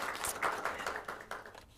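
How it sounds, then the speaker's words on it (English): A short burst of scattered clapping from a small group at a city council meeting, quick irregular hand claps fading slightly toward the end. "just a round of applause for the program"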